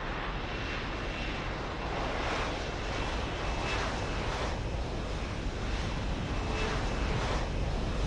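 Steady, loud aircraft engine roar from the VTOL craft arriving at a helipad to pick up Jensen in the video game Deus Ex: Human Revolution, holding a constant, dense wash of sound with slow swells and no talking.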